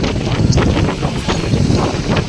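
Strong cold wind buffets the microphone in steady, loud gusts, with a low rumbling roar and no voices.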